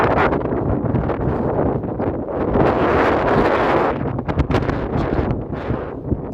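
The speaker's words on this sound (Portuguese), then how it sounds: "Olha o vento." Gusty wind in Burgos, Spain buffets the microphone in strong, uneven surges that rise and fall throughout, loud and close with no other sounds clearly standing out.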